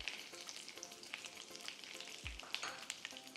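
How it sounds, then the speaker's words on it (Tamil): Faint, rapid crackling and popping of mustard seeds spluttering in hot oil while cooking a side dish, an irregular patter of small snaps with no voices. "கடுகு பொரிய ஆரம்பிச்சிச்சு"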